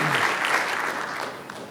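Audience applause at the close of a plenary session on concentrated solar power, a brief dense burst of many hands clapping that is loud at first and then gradually fades.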